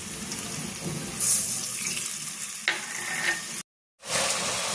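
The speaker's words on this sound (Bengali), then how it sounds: "আমি এর মধ্যে খুব সামান্য একটু জল দিয়ে দিচ্ছি যাতে মশলাটা না পুড়ে যায়" Water is poured into spice masala frying in a pan, setting off a loud, close hiss and sizzle that goes on for several seconds, then cuts out briefly and comes back.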